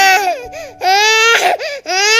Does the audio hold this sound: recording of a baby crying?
yes